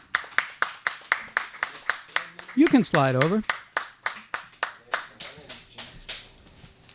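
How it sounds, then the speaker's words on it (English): A comedy show audience claps to welcome a guest onto the stage, a sparse run of distinct, fairly close individual claps in a steady rhythm, briefly interrupted by someone speaking in the middle. "Give a nice round of applause to Mr. Grant Pachoco."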